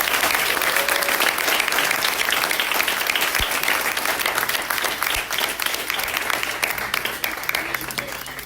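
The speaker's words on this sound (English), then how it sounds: "Let's give a round of applause to our panelists." An audience applauds panelists at the close of an evening panel discussion on revolution and change in Sudan, with loud, dense, sustained clapping that holds steady throughout before easing slightly at the end.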